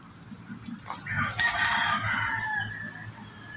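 A Black Shamo Aseel rooster crows once, a loud, drawn-out call rising and fading over a couple of seconds against faint low background rumble.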